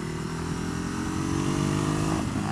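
A Ducati Hypermotard 821 motorcycle engine runs steadily while the bike is ridden, a loud continuous drone with a slight rise in pitch and no speech over it.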